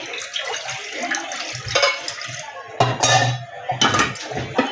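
Hot water poured into a kadhai of masala for a spicy village chicken curry, a splashing, sloshing pour with metallic clinks of the pan in irregular bursts, close and fairly loud.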